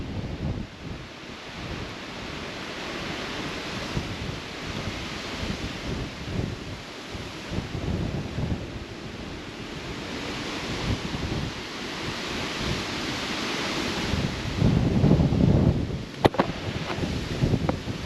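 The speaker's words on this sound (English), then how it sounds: "Yeah, that's how windy it is." Strong wind blasts across a microphone on a tripod at High Point Lake, Pennsylvania, producing a continuous loud roaring buffet with surging gusts throughout, no voices heard.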